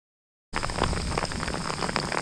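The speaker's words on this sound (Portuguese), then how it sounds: "Mas é o granizo mais grosso que eu já vi na minha vida." Very thick hail pelting down during a summer thunderstorm on a high, open mountainside in the Dolomites, a dense loud rattle of stones striking the ground that starts abruptly and continues without pause.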